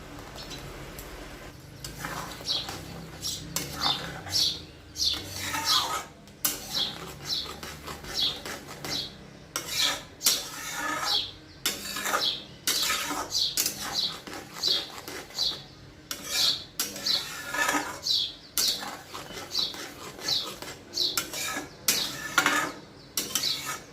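Cashew and poppy seed paste is stirred into a yogurt masala in a pan, repeated short scraping strokes of a spatula in an irregular rhythm, close and fairly quiet, with no talk.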